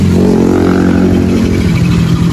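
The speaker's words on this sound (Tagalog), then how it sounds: "Ang tahimik ng makina, although need ng linis kasi may putok na siguro" A Rusi 125 scooter engine with a new stator and pulser idles close by, a steady, fairly smooth low putter with a faint rhythmic pulse.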